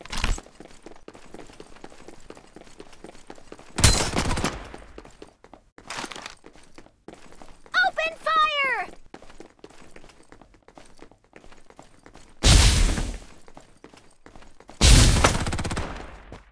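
Bursts of gunfire ring out in the mobile shooter Farlight 84, several loud volleys separated by quieter stretches, with chirping in-game effects in between and no talk.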